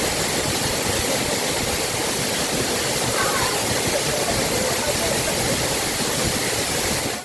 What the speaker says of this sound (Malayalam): അതിശക്തമായ വെള്ളം താഴോട്ട് ഒലിച്ചിറങ്ങുന്നത്